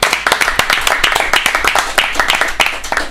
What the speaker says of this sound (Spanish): muchachos, otro aplauso